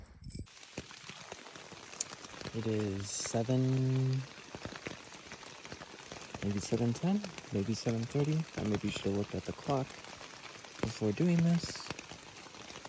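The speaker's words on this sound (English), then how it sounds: "It's rainy. It's a little chilly." Rain falls steadily on a campsite on a chilly morning in the Boundary Waters, a soft continuous patter that runs the whole time beneath someone talking nearby.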